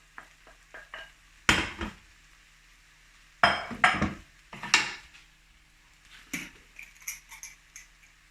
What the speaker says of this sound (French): très rapidement, sans attendre, vous mettez les aubergines